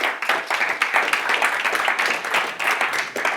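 An audience claps together in a steady, moderately loud burst to cast a vote on naming a fish, the clapping from many hands blending into an even patter that runs the whole time.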